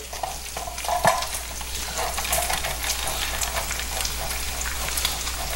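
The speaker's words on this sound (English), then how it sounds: "Now if you can hear the bacon," Bacon fries in a pan with a steady, close crackling sizzle, a few sharper pops and spatters rising above the continuous hiss, with no voices.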